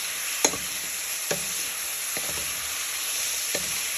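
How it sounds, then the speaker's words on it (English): Spanish chicken and vegetables fry at medium heat in a pan, a steady sizzle broken by a few sharp stirring scrapes, no talk. "You're just going to lower the heat to medium, and then you just give that a good stir in."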